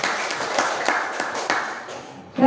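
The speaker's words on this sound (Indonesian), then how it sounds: "beri tepuk tangan untuk kita berdua." A small group in a school setting at SMP Negeri 16 claps in a few distinct, loosely rhythmic bursts, close and fairly loud, ending with a brief voice.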